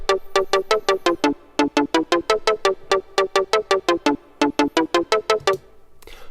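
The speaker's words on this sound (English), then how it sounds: "in this video I'll be showing you how to make a cool melodic synth in Sylenth1" Melodic drum and bass lead synth patch from Sylenth1 plays a rapid rhythmic run of short plucked notes, bright and punchy, evenly pulsing with a brief gap midway, alone without speech.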